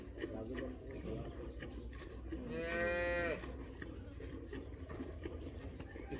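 Amid steady background noise, a Jersey dairy cow gives one clear moo of about a second, close and louder than its surroundings.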